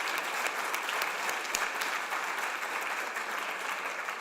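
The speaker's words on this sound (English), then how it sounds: "that deserves an applause" Steady applause from a large audience at a political event, dense and even throughout with no talking over it.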